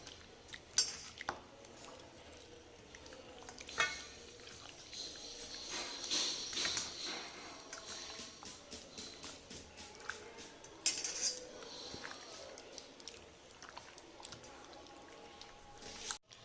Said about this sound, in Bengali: ভালো করে মটনের সাথে আমি টক দই মিশিয়ে নিচ্ছি।